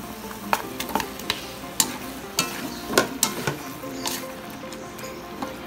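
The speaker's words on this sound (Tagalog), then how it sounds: "Mix lang natin, halu-haluin lang natin." A spoon stirring tomatoes and onions sautéing in a pan for ginisang baboy, with a steady sizzle underneath and sharp irregular scraping clinks as the utensil hits the pan, close and clear, with no talking.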